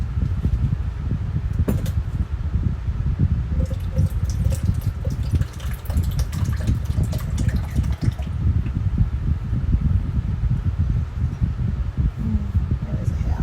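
Tap water runs steadily into a sink while a kitchen utensil is washed, a close, continuous splashing rush with brief clatters, in a kitchen where a cast iron skillet dessert is being made; a voice talks over it.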